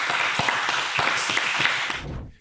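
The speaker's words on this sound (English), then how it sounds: "Round of applause." Audience applause welcoming the next founder onto the stage at a startup pitch event, dense steady clapping from a crowd that fades out near the end.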